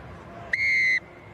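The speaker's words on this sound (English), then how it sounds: "So Jaco Piper blows the whistle, and the second half is underway" A rugby referee's whistle at the restart of the second half of an All Blacks versus Ireland test match gives one loud, steady blast of about half a second, with a low stadium murmur under it.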